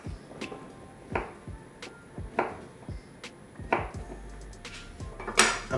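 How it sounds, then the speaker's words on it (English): A knife cutting black bean tempeh into slices on a board, producing a series of sharp, close knocks roughly every half second, with a brighter clatter near the end and no talking. "I'm just gonna cut the tempeh in like beautiful slices like this."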